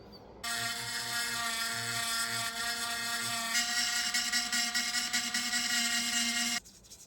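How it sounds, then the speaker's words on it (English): A small power tool smooths the axle pumpkin of an SCX24 RC crawler, a V.ENG Gatekeeper build. It gives a steady, high-pitched motorized whine for about six seconds, shifts pitch partway through, then cuts off abruptly. "I want to smooth out the pumpkin of the axle"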